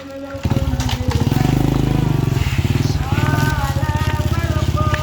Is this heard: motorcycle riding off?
yes